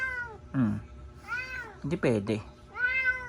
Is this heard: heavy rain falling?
no